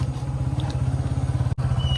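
A motorcycle engine runs steadily with a low, pulsing chug as it rides along a slippery, muddy dirt road through rain-soaked paddy fields, loud and close, with a brief dropout near the end.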